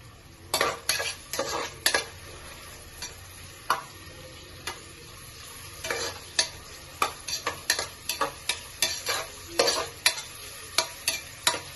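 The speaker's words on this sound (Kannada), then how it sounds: "ಈರುಳ್ಳಿನ ಸೇರಿಸ್ಕೊಂಡು ಚೆನ್ನಾಗಿ ಒಂದು ಟೈಮ್ ಫ್ರೈ ಮಾಡ್ಕೊಬೇಕಾಗುತ್ತೆ" Onions fry in a pan for methi matar pulao, a low continuous sizzle punctuated by many sharp, irregular clicks and taps of a spoon stirring against the pan, close and without talk.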